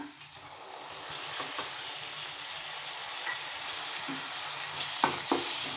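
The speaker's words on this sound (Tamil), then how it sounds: "இஞ்சி பூண்டு பேஸ்ட்டு பச்சை வாசம் போகுதுன்னே வணக்கலாமுங்க" Ginger garlic paste sautés in a pan for a mushroom gravy, giving a soft, continuous sizzle at moderate distance, broken by a few light spoon scrapes and stirring clicks.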